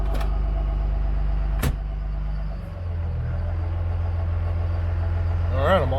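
Low diesel rumble from a Cummins engine in a Ford King Ranch pickup truck, steady and fairly near, with a couple of sharp clicks and a short rise in revs near the end.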